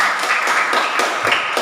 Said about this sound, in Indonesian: tepuk tangan untuk Christoph.